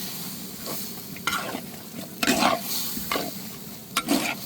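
Coconut milk poured into a simmering Sri Lankan soya meat curry with potatoes, giving a low steady bubbling hiss with several louder splashing, stirring bursts spaced across the stretch, fairly close and with no talking.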